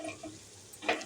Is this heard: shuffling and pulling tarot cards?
no